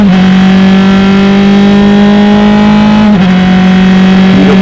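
Loud, sustained whine of a Formula X race car engine at high revs at Mid-Ohio, pitch holding steady then dipping briefly as it shifts, constant and close.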